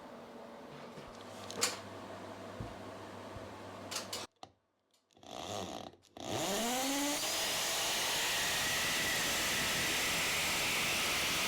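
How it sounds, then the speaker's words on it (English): A power drill bores holes into a wall in a countryside workshop, with faint clatter early on, a brief pause, then a loud, steady whirring drone that holds to the end. "All that's left to do is to drill some holes in the wall."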